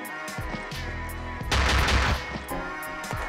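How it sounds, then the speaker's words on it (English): Hand cannon fire in the video game Luckslinger: a quick string of punchy, close gunshots in a burst, with one heavier booming blast in the middle. "Man, your hand cannon really lights it up."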